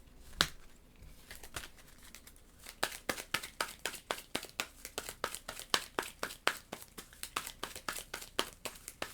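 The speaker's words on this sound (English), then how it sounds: "we're going to shuffle our deck because now it's empty" Rapid crisp riffling and flicking of cards, a long burst of quick rhythmic snaps after a couple of isolated taps, close and fairly quiet.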